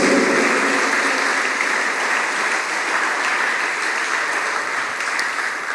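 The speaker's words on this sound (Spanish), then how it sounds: "Dale un aplauso fuerte a mi amado Jesús." A church congregation applauds loudly during a Spanish-language sermon, giving a steady wash of clapping that holds evenly for several seconds, moderately distant.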